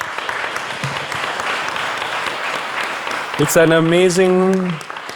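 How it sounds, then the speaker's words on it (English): A crowd claps at a poetry festival closing ceremony in Singapore, a moderate continuous patter of hands; midway a voice begins speaking over the fading applause. "So a round of applause to all of you."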